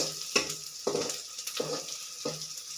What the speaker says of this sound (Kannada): ಚೆನ್ನಾಗಿ ಫ್ರೈ ಆಗಲಿ ಈರುಳ್ಳಿ